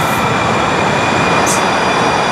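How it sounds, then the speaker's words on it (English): Train arriving at the Tide light rail station in Norfolk, Virginia: a steady, loud rumble and hum of rail cars filling the whole stretch, with a brief high hiss partway through. "There's one of the trains."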